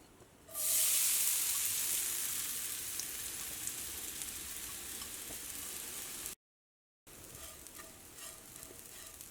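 Rice flour laddu dough frying in hot ghee, a strong steady sizzle that starts abruptly and holds close and loud, easing slightly, then cuts out briefly before resuming at a similar level.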